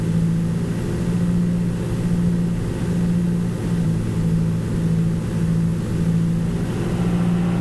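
A Muir Hill 101 four-wheel drive tractor built on a Ford skid unit pulls a Ransom's TSR 106 reversible plough, its engine a steady, loud low drone with a constant hum and no pauses.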